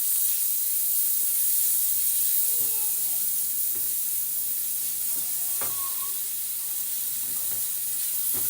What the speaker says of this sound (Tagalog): Gisa na natin tong ating sibuyas at bawang.